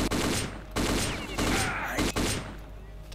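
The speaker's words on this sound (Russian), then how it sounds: "Кто по мне стреляет?" Gunfire from soldiers in the video game S.T.A.L.K.E.R., with loud bursts and volleys of shots recurring across the moment over dense game ambience.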